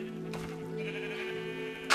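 Sheep bleating in the video game Minecraft, a single drawn-out wavering bleat heard clearly and close, lasting nearly two seconds.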